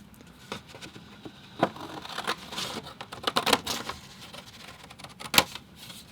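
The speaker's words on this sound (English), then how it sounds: "I'm going to have my scissors here. I'll just trim this down halfway." Scissors cut an 11 by 14 card in half with a run of crisp snipping and crinkling paper sounds close by, uneven in rhythm, with sharper cuts scattered throughout.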